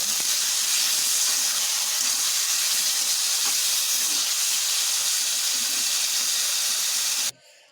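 A little water hits sizzling aloo dum in a hot pan, sending up a loud, even steam hiss that holds for about seven seconds before cutting off abruptly, with no voices.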